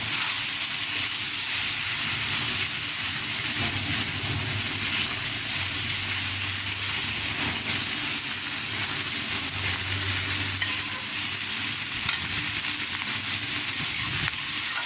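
Prawn and vegetable-stalk curry cooking in a pan over a raised flame after water is added, giving a steady, close, continuous hiss and bubbling sizzle with no voices.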